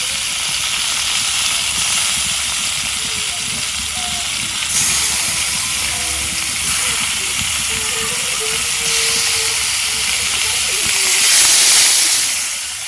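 Kalbaush fish frying in a pan, a steady hissing sizzle that swells and fades, with faint voices or background sounds partly mixed in beneath it.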